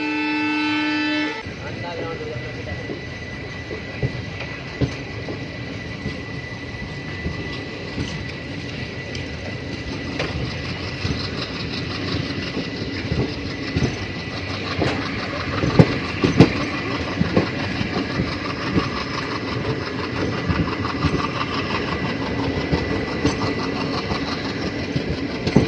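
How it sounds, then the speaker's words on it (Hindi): The Geeta Jayanti Express arrives at platform 1 of Kharagpur railway station, opening with a brief horn toot, then a long rumbling, clattering run of wagons with rhythmic wheel clicks and station bustle around it. "और अपनी ट्रेन आई है प्लेटफॉर्म नंबर 1 पे।"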